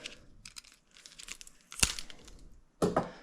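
A piece of tape peeled off a new Midea 50-pint dehumidifier with pump during setup: a few quick crinkly tearing bursts, with a sharp rip near the middle and another at the end.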